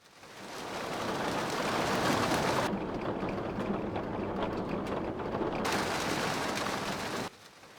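Rain falls steadily in an anime scene, a dense hiss of drops that swells in, thins out midway, then returns full before cutting off abruptly.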